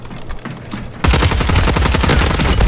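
Gunfire from shotguns in a Call of Duty Warzone match on Rebirth Island erupts after a quieter second, a loud, dense, rapid barrage of overlapping shots that continues without a break.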